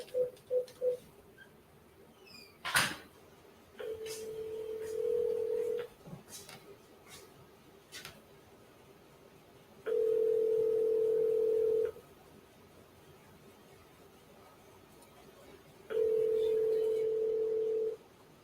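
Telephone call tones: a few quick dialing beeps and a click, then three long, steady ringback tones spaced by pauses, faint and without voices.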